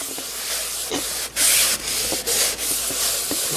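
A coat of polyurethane is wiped onto an old-time wooden carpenter's toolbox, making continuous close rubbing strokes with brief pauses between passes, heard alone.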